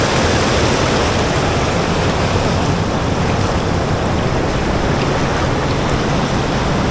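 Water under strong pressure rushes through a sluice at Kundumon in Kollam, a dense, steady roar that fills the whole clip with no voices.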